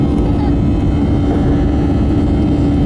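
A Thai AirAsia Airbus jet taking off from Don Mueang airport gives a loud, steady engine roar with a deep low rumble that holds unbroken throughout.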